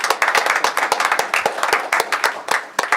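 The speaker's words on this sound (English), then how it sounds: "Let's please give our panelists a round of applause." A small conference audience claps for panelists, with separate sharp hand claps in an uneven rhythm that stays fairly loud throughout and carries no talk.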